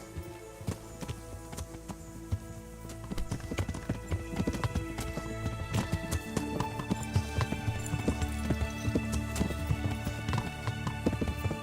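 Horse hooves from the medieval game Kingdom Come: Deliverance, a rapid clip-clop gallop that starts lighter and grows denser and steadier, mid-distance, running continuously for about twelve seconds with no talk.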